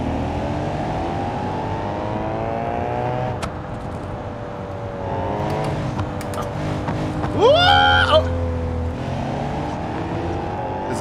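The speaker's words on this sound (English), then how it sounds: "Especially over your loud ass exhaust." A car with a loud exhaust in the BeamNG.Drive driving game on a canyon road with traffic, a steady engine drone with rising revs and a brief whining squeal near the end.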